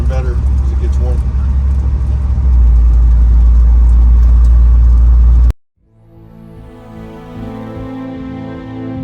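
An old Ford truck engine, a 1967 or 1986 model, runs loudly and steadily while warming up, then cuts abruptly to a quieter, smoother engine drone for the remainder.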